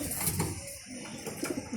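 Racing pigeon cooing in a loft, a hen bird that has raced 260 km; soft low coos repeat briefly at close range with no talking.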